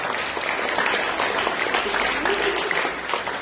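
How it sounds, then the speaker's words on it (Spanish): A congregation at a 2023 Resurrection church service applauds, with dense, loud clapping from many hands that holds steady for a few seconds. "un aplauso"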